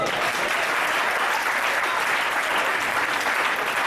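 A church congregation applauds continuously and loudly, a dense, even wash of clapping that fills the space from start to finish.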